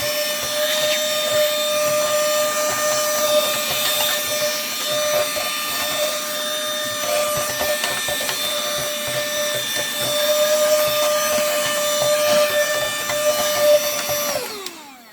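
A vacuum cleaner drawing dust off a dirty PS3 console case gives a steady, loud whine that holds for the whole stretch, alone with no talk, and winds down abruptly at the end.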